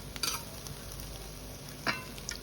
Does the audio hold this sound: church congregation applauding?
no